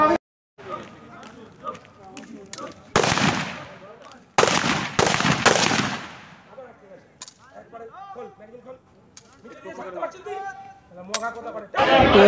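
Gunfire at a police training firing range, several loud sharp shots in a cluster and one more near the end, with people talking in between.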